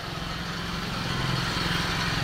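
A 2015 Ford Ranger engine idling after being started outdoors, a steady low rumbling chug with a fast, even pulse, close and continuous, no talk.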